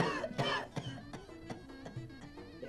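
Harder coughing from a patient at a doctor's request in a comedy sketch: a strong opening burst followed by a run of shorter, spaced coughs that fade slightly, heard close up.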